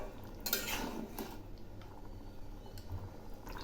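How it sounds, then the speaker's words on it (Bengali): Sweet pumpkin curry with fennel and lentil dumplings stirred in a pan, a few soft clinks and scraping squishes of a spoon close by, mostly alone with little talk. "আবারও একটু নেড়ে দিচ্ছি।"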